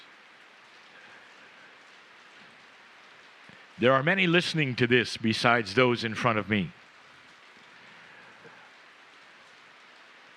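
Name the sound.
rain falling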